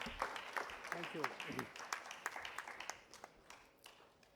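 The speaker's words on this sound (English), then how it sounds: "I need to hear some round of applause." A round of applause from the audience at an awards ceremony, heard as fairly faint, uneven clapping that thins out toward the end, with a voice briefly audible near the start.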